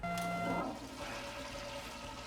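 A toilet flushes with a loud rushing surge of water for about half a second, then the refill hiss and trickle continue more quietly to the end, with no talking.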